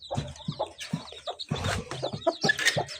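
Several chickens, including Chinese chicks, cluck and chatter close by in short, irregular bursts, with occasional higher squawks.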